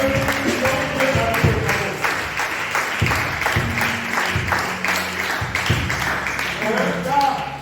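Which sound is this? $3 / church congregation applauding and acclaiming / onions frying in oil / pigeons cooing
church congregation applauding and acclaiming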